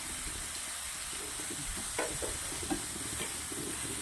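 Raw tomato curry stirred in a pan, with a soft continuous sizzle under scattered scraping and clinking strokes of a spoon, faint and steady throughout.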